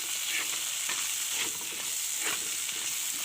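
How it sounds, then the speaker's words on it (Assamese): Fermented bamboo shoot (khorisa) frying and being stirred in a hot pan, a steady close sizzle with faint scraping strokes, no voices. "এতিয়া এইখিনি অকণমান ভজাৰ পিছত এতিয়া মই দি দিম খৰিচা টেঙাখিনি।"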